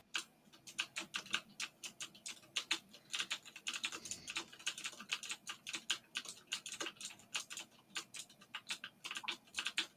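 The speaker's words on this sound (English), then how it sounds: "A lot of keyboard clicking" Rapid, steady clicking of computer keyboard keys fills the recording, a close and fairly quiet run of individual keystrokes with a short pause midway and no voices.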